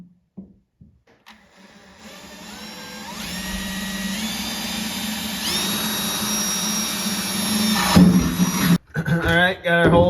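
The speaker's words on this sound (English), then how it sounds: "got our holes drilled" A power drill bores holes under a pickup truck, the motor whirring up and holding a loud, steady whine for several seconds before stopping, with a few scrapes and knocks around it.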